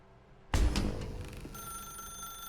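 In The Stanley Parable Ultra Deluxe, a telephone bursts into loud ringing after a quiet start, the bell decaying into a sustained electronic tone.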